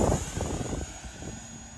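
A small RC jet with a 50mm electric ducted fan runs at full throttle, a steady high-pitched whine with broadband rushing air, loudest at the start and gradually easing as it passes.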